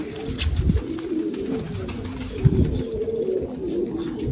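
Pigeons in numbered loft coops coo steadily at close range, with a couple of louder, throatier bursts rising above the ongoing murmur.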